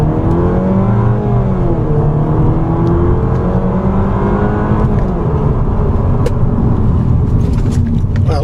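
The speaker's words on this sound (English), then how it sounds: "This is a slightly heavier car, so we really don't get lots of awesome acceleration off the line here." A 2015 Chrysler 200S with a four-cylinder engine and a nine-speed automatic accelerates. Its engine note climbs steadily and drops at each upshift, a loud, close whir from inside the car with faint speech underneath.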